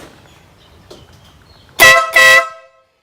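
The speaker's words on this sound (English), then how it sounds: "He's got an air horn on that sucker." Two short, loud blasts from an air horn fitted to a scooter, close by, with a brief gap between them after a quiet start.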